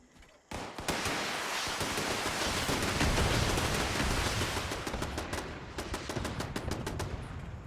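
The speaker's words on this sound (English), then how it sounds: "You're actually now shooting" Gunfire in the Fallout 76 video game: a long, dense barrage of rapid automatic shots, close and loud, thinning into separate sharp cracks toward the end.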